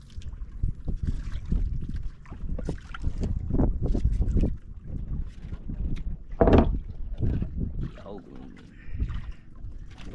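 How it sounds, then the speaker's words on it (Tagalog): Gusty wind buffets a microphone out on open water, a breezy but fairly calm stretch, with rumbling low gusts coming and going across the whole recording and bursts of noise throughout. "Medyo mahangin-hangin idol pero hindi ganong maalon."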